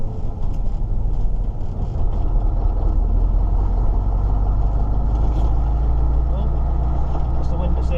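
An old Scania 143 truck drives along with a deep steady engine drone and road rumble filling the cab, a continuous low roar that does not let up.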